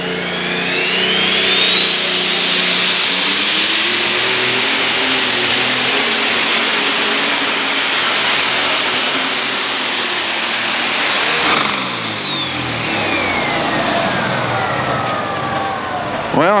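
A tractor-pull engine, a former six-cylinder diesel now burning methanol, screams at high revs in a sustained loud roar, its pitch climbing then holding before dropping away at a county fair pulling event.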